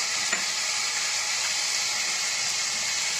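Spiced mashed bombay duck (loitta fish) sizzles in a frying pan, a steady, close, even crackle and hiss that runs without a break and with no voices.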